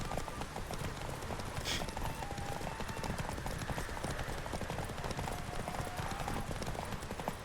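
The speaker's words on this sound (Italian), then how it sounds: "Ma siamo su dei cavalli, anche il cavallo è uno strumento" Horse hooves gallop in The Witcher 3 in a fast, steady clip-clop that carries on throughout, close and loud over an outdoor game backdrop.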